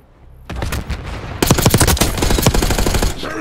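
Gunfire in Call of Duty Black Ops 6, bursts of rapid automatic fire breaking in loud and close after a quiet start, then a dense, continuous volley of shots.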